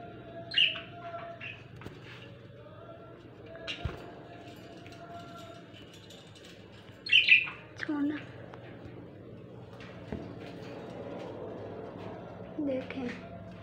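Pet birds and their chicks in a nest box give sparse, faint chirps and a few squawks over quiet room noise, with someone speaking in between.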